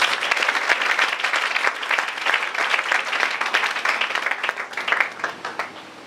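A congregation bursts into loud, sustained applause during a church service, with dense clapping from a crowd that continues steadily and tapers slightly toward the end.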